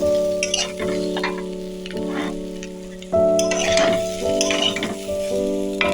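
Loud sizzling as potato and green papaya fry with turmeric, with repeated scraping and clattering strokes of a spatula stirring the pan, over a steady electrical hum.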